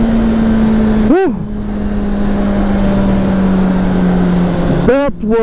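A 2023 Honda CBR650R sport bike engine held at high RPM, a loud steady drone with wind rush and brief rising rev sweeps as gears change, heard close from the rider's position.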